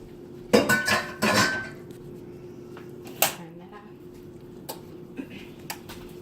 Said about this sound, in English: So now we're gonna stir our milk in.